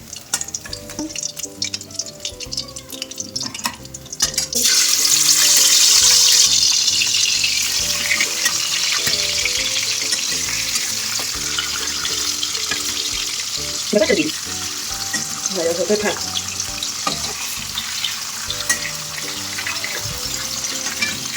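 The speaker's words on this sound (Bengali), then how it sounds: "দেখো মাছগুলো খুব সুন্দর করে ভাজা হয়ে গেছে" Fish frying in hot oil for a cauliflower fish curry, a loud, steady sizzle that swells after a few seconds and runs on continuously, with occasional stirring or turning noises and no talk.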